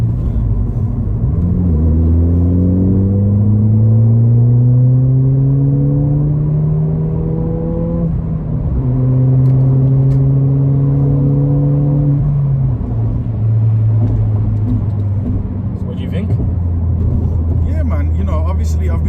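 Turbocharged Ford ST engine revs climb repeatedly through the gears with rising whine and deep rumble, heard from inside the cabin, with people talking over it.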